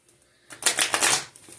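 A tarot card deck is split and handled, giving a short burst of crisp papery riffling and flicking that rises suddenly after a quiet start, then fades to soft rustles.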